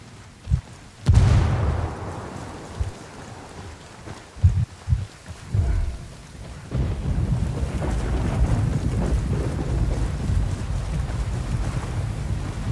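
A frag grenade blows up in a video game with a sudden loud boom, followed by rumbling and several thumping bursts. A steady, windy roar continues underneath.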